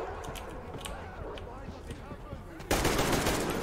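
Rapid gunfire in a video game bursts in loud and dense near the end, following a stretch of quieter in-game sounds with a voice talking over them.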